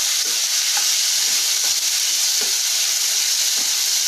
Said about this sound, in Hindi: हमारा यह टमाटर देखिए फ्राई होने लग गया, गलने लग गया है